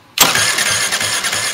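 A Swissauto 250 EFI engine catches abruptly after a brief silence, then settles into a loud, close, buzzy running note with slight rhythmic pulsing.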